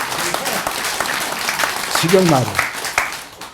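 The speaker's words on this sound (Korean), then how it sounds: "지범 스님이 박수 쳐야 치는구만" Audience clapping at a monk's Buddhist dharma talk at Bomunsa temple, a steady broad patter of applause running throughout, with a voice speaking briefly over it.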